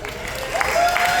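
Comedy club audience breaking into clapping and cheering, a dense wash of applause from the crowd lasting about a second, with a voice briefly audible over it.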